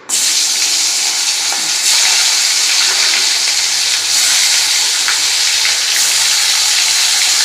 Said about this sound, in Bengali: এই যে ভেটকি মাছের কাঁটাগুলো এবার ছেড়ে দিই